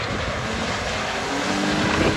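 A Ford Escape engine roaring hard through its muffler while mudding, a loud, close, continuous low growl with a slight rise in pitch toward the end.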